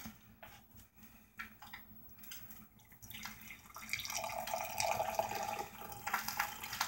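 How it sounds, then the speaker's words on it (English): Coffee from a French press is poured into a camping cup, first a few faint clinks and taps, then a steady trickling, splashing stream that grows louder and continues to the end. "And now we will pour Seamus some coffee."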